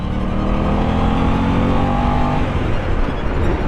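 A 2023 Aprilia RS660 parallel-twin motorcycle engine revs loud and close, its pitch climbing steadily before the tone breaks up into rougher roar after a couple of seconds.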